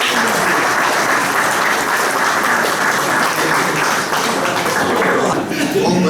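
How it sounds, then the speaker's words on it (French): Loud, dense applause from the room fills the whole stretch, steady and unbroken, welcoming the new president at a Rotary Courcelles 2000 club handover evening. "On peut l'applaudir très fort."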